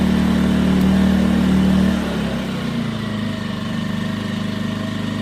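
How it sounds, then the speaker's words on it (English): A Champion 2000-watt portable generator runs loudly with a steady hum, then drops into economy mode, its engine tone falling and quieting into a lower, steady idle that continues to the end. "So you can see on the economy mode it idles down quite a bit and the sound goes down quite a bit."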